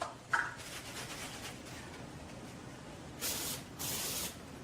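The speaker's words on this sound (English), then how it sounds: "EasyOff, spray on the oven." EasyOff oven cleaner is sprayed onto a kitchen oven in two sustained hissing bursts, close by, after a quiet stretch of faint room noise.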